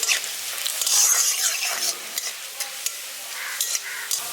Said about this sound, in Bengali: রসুনটাকেও হালকা একটু ভেজে নিচ্ছি।